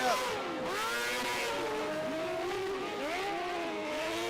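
Sprint car engine misfiring on the front straightaway during an oval race, a continuous wavering drone with uneven, stuttering pitch sweeps amid other race cars, steady and moderately distant throughout.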